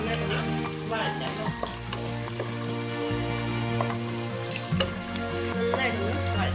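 Garlic sautéing in a pan for Kerala-style gooseberry pickle, a steady crackling sizzle with stirring scrapes, close and moderately loud, with a low humming tone underneath and no speech.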